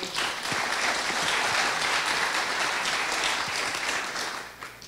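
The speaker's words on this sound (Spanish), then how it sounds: "Un aplauso y recibamos." Auditorium audience applauding steadily throughout, a dense wash of clapping from many hands that holds at full strength before tapering slightly at the very end, with no talking over it.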